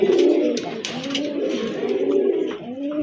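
Several red Rajgolla show pigeons coo steadily at close range, low throaty rolling calls overlapping continuously for a few seconds.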